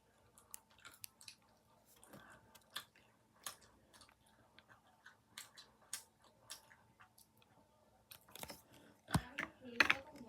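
Fruit-flavoured chewy candy being chewed close up, with soft sticky mouth noises and scattered small crunchy clicks through the clip, getting louder and busier toward the end.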